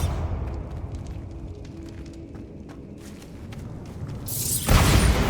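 A Bombarda blasting spell in Hogwarts Legacy, with rumbling ambience and scattered clicks building to a sudden loud, broad explosive burst near the end.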